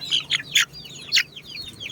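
A Jolohano/Basilan broadcock chicken, a heavy bird of over four kilos, gives a quick series of sharp, high clucks and chirps, close and fairly loud, with short gaps between the calls and no talking.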